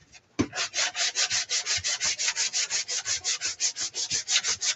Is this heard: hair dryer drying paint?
no